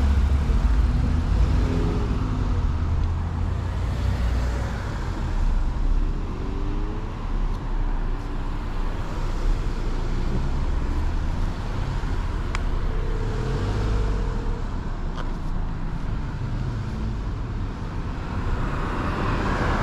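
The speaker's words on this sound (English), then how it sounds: "let all these cars pass" Cars on a busy road pass close to an e-bike rider, a steady, loud roar of traffic and tire noise that holds through the whole stretch with no talking.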